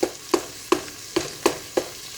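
Sausage browning in a pan for sausage and potato soup, sizzling steadily while a utensil chops and stirs it in five sharp, evenly spaced scrapes and taps close by.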